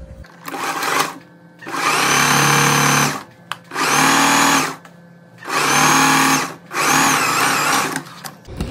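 Sewing machine stitching the front and back crotch pieces of wide-leg trousers together, running in four loud, steady bursts of whirring stitches separated by short pauses.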